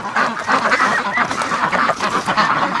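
Muscovy ducks in a pen on a bitterly cold day quack and honk steadily, a close, loud, overlapping flock chatter with no pauses.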